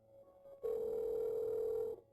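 A telephone tone sounds when a call fails to connect: one steady electronic beep held for over a second, clear and close against a quiet background.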